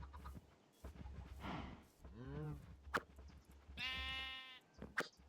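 A sheep in the video game RLCraft, a Minecraft modpack, gives two bleats, one wavering and one higher and brighter, among soft in-game footsteps and clicks.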